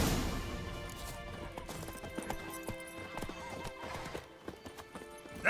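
Hooves of Roach, a horse in The Witcher 3, clop rapidly in an even galloping rhythm, with a whinny and rustling game ambience behind them, fairly close and moderately loud.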